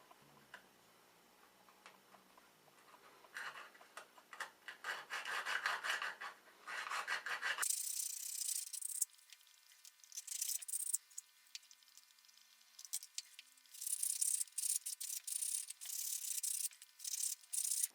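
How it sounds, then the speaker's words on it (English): Sandpaper rubs the cut edges of a plastic flute pipe in short bursts of scratchy rasping, quiet and close, with pauses between strokes. "Now just smooth off those cuts with sandpaper."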